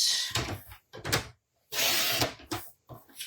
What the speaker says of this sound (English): I'll line that up in the cutting track and cut that with my trimmer